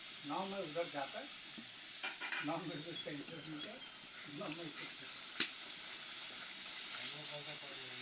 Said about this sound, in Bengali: মশলাগুলো ভালোভাবে ভাজবো।